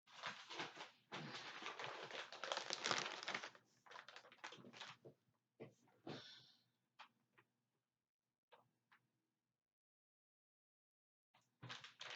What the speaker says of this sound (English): I just want to shuffle one time with this other deck.